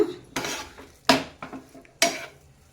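Spoon mixing a stuffing with chopped coriander in a bowl for a street-style breakfast, three sharp metallic clinks against the bowl with quieter scraping between, close and clear.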